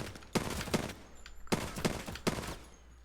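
Gunfire at targets in Apex Legends comes in three quick, loud bursts of rapid shots, each about half a second long and separated by short pauses.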